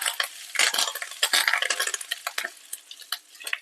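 Red chillies, curry leaves and asafoetida stirred in a pan, quick metallic scrapes and clinks of a spoon against the pan over a faint sizzle, close and irregular.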